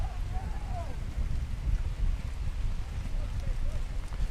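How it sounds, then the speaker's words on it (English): Wind gusts at about 15 to 20 miles per hour across an outdoor youth soccer match, making a constant low rumbling buffet of wind noise on the microphone, with faint whistles and voices in the background. "The wind is gusting probably about 15,"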